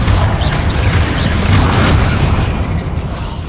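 Spell explosion from the Confringo charm in a Harry Potter video game: a loud, booming blast that rolls on as a sustained rumbling roar and fades slightly at the end.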